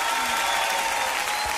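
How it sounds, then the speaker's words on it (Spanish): A church congregation applauding loudly, dense sustained clapping filling the space with faint crowd noise underneath. "Dale una fuerte ovación de palmas."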